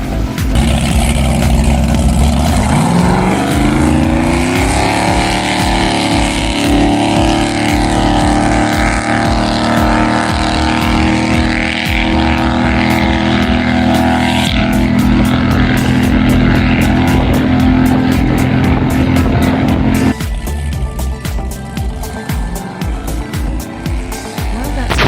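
The outboard motor of a 1969 Glastron riverboat drones steadily and loudly up close, its pitch rising as it speeds up, then dropping and roughening near the end.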